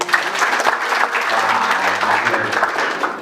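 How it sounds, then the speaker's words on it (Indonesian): An indoor seminar audience claps in a dense burst of applause, loud and close, with a few voices murmuring underneath. "Tepuk tangan dong."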